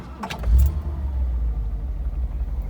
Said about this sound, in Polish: Auto zapala od strzała.